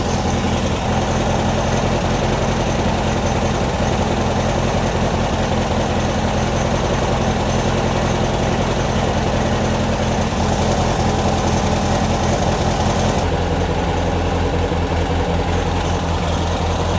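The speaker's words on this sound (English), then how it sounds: "I think this carburetor is finally running pretty well." A Beck 550 Spyder replica's engine idles steadily after a carburetor cleaning, a loud continuous low rumble with a slight shift in tone near the end, heard alone without voices.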